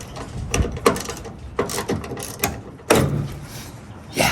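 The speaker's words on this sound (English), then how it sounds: "We're gonna remove these 1, 2, 3 bolts here, and we're gonna use a 10 millimeter" A 10 millimeter socket wrench ratchets bolts loose on a Toyota Tacoma bed, giving close, repeated clicking pawl strokes in irregular bursts with brief pauses between them.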